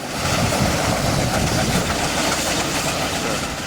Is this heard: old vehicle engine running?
yes